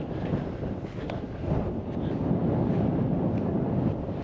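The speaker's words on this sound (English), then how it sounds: "Wow, this wind is relentless." Strong, relentless wind buffets the microphone at over 8,000 feet in Colorado, a steady loud roar with gusty surges throughout and no talking.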